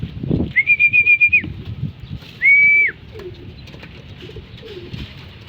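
Racing pigeons land at a home loft, with flapping wings, a couple of clear whistled notes and soft low coos close by, over faint background rustling.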